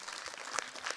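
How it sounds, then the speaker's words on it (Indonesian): Brief applause from a studio audience at an Islamic children's television program, a short burst of scattered clapping lasting about a second. "Sekali lagi tepuk tangan untuk Revan."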